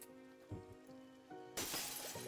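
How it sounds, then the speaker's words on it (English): Window glass breaking, a sudden bright crash and shatter after a quiet stretch with faint rain-like patter, then scattered tinkling fragments, short and fairly close. "Suddenly, you hear the sound of glass breaking."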